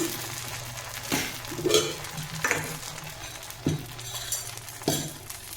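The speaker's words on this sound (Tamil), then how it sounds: "அதே கடாயில் அதே தோசை தவாவில் நம்ம தோசை ஊற்றிக்கலாம்" Green gram dosa batter sizzles on a hot dosa tawa, a steady close fry hiss broken by regular scrapes and clinks of a metal spatula against the pan.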